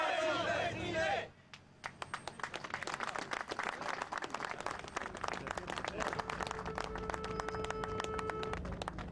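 A crowd applauds after the Chilean national anthem sung by the President of Chile and the First Lady, opening with a burst of loud shouting voices before dense, sustained clapping with scattered calls continues to the end.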